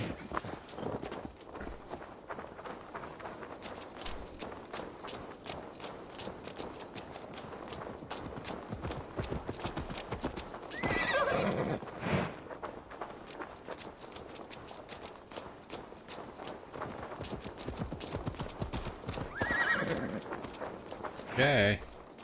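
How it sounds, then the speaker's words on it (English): Steady clip-clop of horse hooves at a walking pace in Assassin's Creed Valhalla, with occasional rustling bursts; no clear neigh stands out. "Might as well ride the horse"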